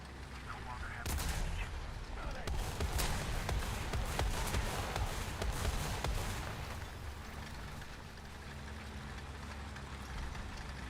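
Tank gunfire in the War Thunder video game, a few sharp booming shots over a constant rumbling engine idle, loud and close, with dense crackling bursts early on.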